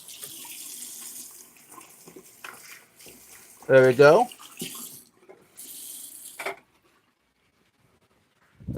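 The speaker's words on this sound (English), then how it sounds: "I'm gonna wash my hands while I'm at it before we get started with the clean water." Tap water runs into a sink for hand washing, a brief strong gush swelling in the middle amid handling clatter, before someone speaks briefly and the room falls quiet.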